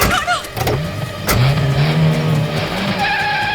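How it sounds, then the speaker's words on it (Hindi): A car in a tense street scene pulls away quickly, its engine note rising briefly with a short tire skid, loud and close, under tense background music and a brief voice. "तुम गाड़ी चलाओ जल्दी।"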